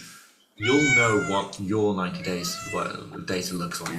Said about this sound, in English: Okay, excuse the cat.